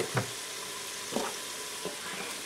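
Celery pieces dropped into a hot Instant Pot, giving three short, soft sizzling bursts about a second apart over a steady low frying hiss.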